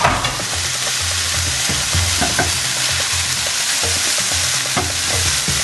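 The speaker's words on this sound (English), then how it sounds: "we're pan toasting the tomatoes and the onions" Tomatoes and onions sizzle steadily in a hot pan with a dense frying hiss, broken by repeated scrapes and clacks of a utensil stirring, close and continuous with no talking.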